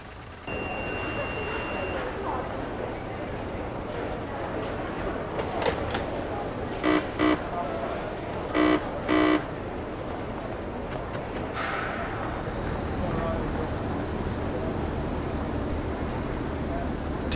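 A Class 142 Pacer diesel unit in Train Simulator 2015 sits at Darlington station and begins departing, a steady low engine rumble broken by several short buzzer-like tones and door sounds.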